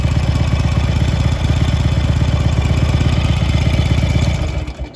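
A Harley-Davidson Sportster 883 motorcycle idles steadily close by, its loud rumbling engine beat running continuously before fading slightly at the very end.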